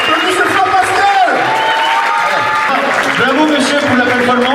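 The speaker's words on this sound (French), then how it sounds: "Applaudissez fort Pascal." A crowd at a sports honours ceremony in Avallon applauds loudly for Pascal, with steady dense clapping mixed with cheers, whoops and crowd chatter throughout.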